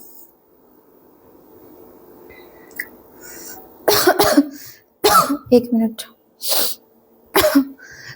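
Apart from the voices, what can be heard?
coughing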